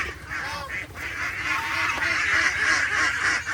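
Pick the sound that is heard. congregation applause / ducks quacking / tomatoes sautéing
ducks quacking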